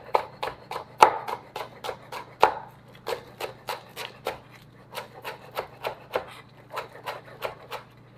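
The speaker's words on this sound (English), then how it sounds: "Cut up the scallions." A knife chops scallions on a cutting board in a steady run of sharp, close taps, roughly two or three per second, with a short pause partway through; a faint low hum sits underneath.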